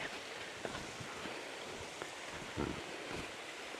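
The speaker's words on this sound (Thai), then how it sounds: "นี่จะเห็นน้ำตกเล็ก ๆก่อนนะครับ" A small waterfall runs beside a forest trail at Pha Rom Yen in Ban Rai, Uthai Thani, giving a steady, wide wash of flowing water. A few soft knocks and footstep-like thumps sit on top, and gusts of wind add a light rustle.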